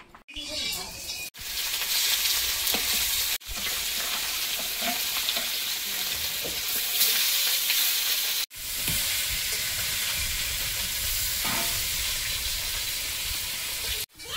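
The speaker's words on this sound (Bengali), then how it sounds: "মাছটা ভেজে নেব।" Fish pieces fry in hot oil with a loud, continuous sizzle and crackle. Brief breaks split the sound into a few long stretches.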